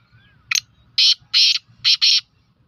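A partridge gives a short series of about five sharp, high calls, close and clear, the later ones coming in quick pairs over a quiet, low background murmur.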